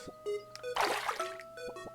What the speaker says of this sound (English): There, I watered the lemon.